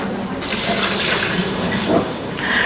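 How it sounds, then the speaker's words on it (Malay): A little water is poured into a cooking pot of spices for chicken, giving a short splashing, rushing pour that rises and falls over a few seconds, fairly close and loud. "Kemudian kita masukkan sedikit air."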